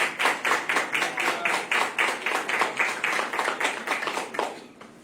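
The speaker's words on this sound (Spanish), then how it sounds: "Aplausos para la doctora" Audience clapping for a doctor at an academic conference on administrative sanction procedure, a rhythmic run of roughly steady claps in unison that fades out at the end.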